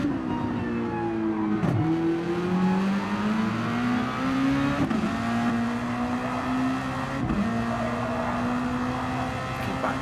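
Race car engines in a sim racing game at Interlagos howl up the long start-finish straight, one close car revving hard through repeated gear changes with short dips at each upshift, a steady loud drone throughout.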